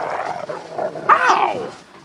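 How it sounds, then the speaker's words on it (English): A dog growls and barks in a dramatized audiobook scene, a rough snarling rising to a louder burst near the middle and then trailing off, close and fairly loud with no voices over it. "Good dog!"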